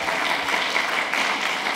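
A university lecture audience claps for a faculty member being introduced, a brief, steady burst of many hands clapping together.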